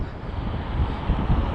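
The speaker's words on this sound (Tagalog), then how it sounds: "Hoy, malakas ang hangin," Strong wind in downtown Toronto roars and buffets the microphone in a steady low rumble, with gusts swelling louder toward the end.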